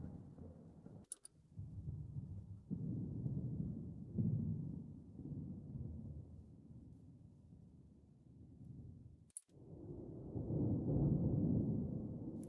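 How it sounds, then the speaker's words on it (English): Thunder in No Man's Sky game footage rolls as a long, low, rumbling swell that rises and fades over several seconds, with quieter lulls and a heavier surge near the end, faint and distant-sounding. "that sounds like thunder"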